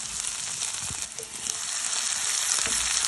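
Cashews, almonds, ginger and garlic fry in a pan, giving a bright, continuous hiss of sizzling oil with a couple of brief stirring scrapes, close and steady, with no voices.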